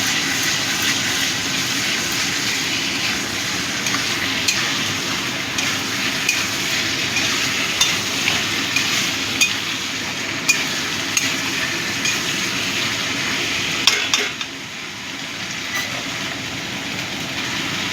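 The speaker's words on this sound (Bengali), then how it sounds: "ভালো করে মিশিয়ে দেবো।" Mutton mince curry being stirred in a pan, a steady broad scraping and sizzling texture running continuously with occasional louder clicks of the spoon, no talking.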